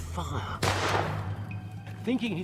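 A historical reenactment weapon fires once as a single sudden loud shot, followed by a brief decaying rumble. A voice is heard before and after the shot.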